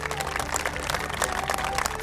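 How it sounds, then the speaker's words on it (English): A studio audience at an agricultural farmers' show gives a steady round of applause, dense and continuous with background voices mixed in, fairly quiet overall. "let's begin today's Krishi Chaupal with a big round of applause."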